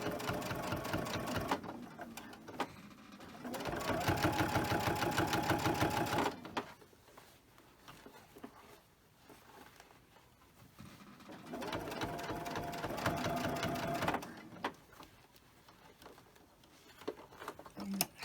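A sewing machine top stitches through several thick layers of fabric for a sleep mask, its rapid mechanical whirr running in two long bursts with a quiet pause between them, close and steady.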